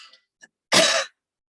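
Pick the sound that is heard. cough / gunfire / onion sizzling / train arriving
cough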